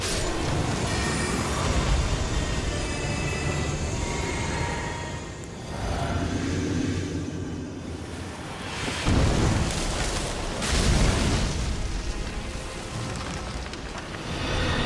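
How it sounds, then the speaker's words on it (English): Deep booming explosions in an Elden Ring boss fight roll and rumble continuously in dense bursts, with loud swells around the middle and near the end. "This is the one with explosions."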